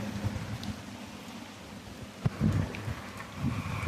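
Rain pours down harder at night, a dense patter with low rumbling gusts and a sudden thump, heavy and close throughout.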